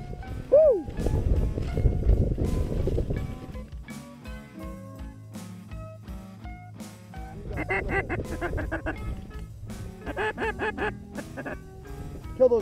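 Ducks and geese call close by during a waterfowl hunt, with honks and quacks in bursts across the clip over a busy, loud outdoor background.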